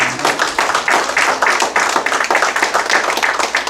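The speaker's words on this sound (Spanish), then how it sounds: "Un aplauso al Cordero de Dios en esta mañana." A church congregation claps in praise during a Spanish-language Sunday morning service, a dense, steady patter of many hands filling the room, close and lively without a break.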